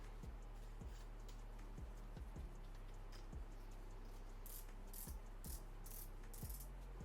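A Linetion Sworder tattoo machine runs with a faint, low mechanical buzz and irregular ticking clicks. It is quiet and close, with no talking.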